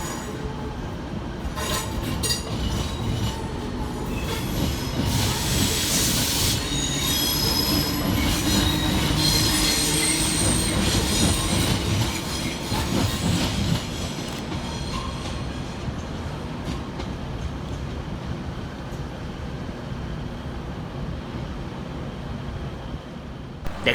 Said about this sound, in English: Next train out to depart 6 minutes late is 769434, with the 1127 Northern service through to Southport.